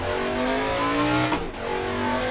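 A race car engine in the Assetto Corsa driving game drones loudly and steadily, then a quick blip and drop in pitch marks the downshift into first gear before the engine settles back into a strong, close hum.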